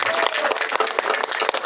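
A crowd claps steadily and densely after a traditional vocal performance at a cultural festival, a warm wash of applause that holds at an even level throughout.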